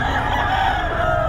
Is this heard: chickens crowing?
yes